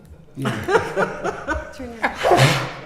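A single sharp sneeze bursts out at a city council meeting after a few quick breathy catches, close and loud into a microphone, like a person's build-up and release.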